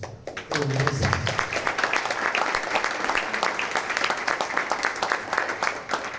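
An audience at a book presentation on the Pop Wuj manuscripts and Francisco Ximénez breaks into sustained applause, dense and steady clapping filling the room after a brief lead-in.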